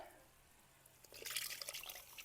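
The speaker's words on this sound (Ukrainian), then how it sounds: "Виливаємо наші грибочки" Mushrooms poured into a pot while cooking a machanka stew in a kazan: a quiet stretch, then a wet splashing, sloshing pour in the second half.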